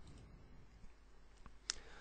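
A single sharp mouse click on a button in Microsoft Access, quiet and close, standing alone over a faint background hiss near the end of the moment.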